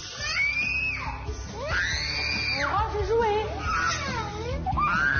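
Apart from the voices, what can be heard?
children screaming shrilly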